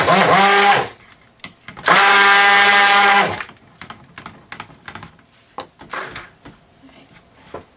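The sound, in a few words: mixing red colorant for cold process soap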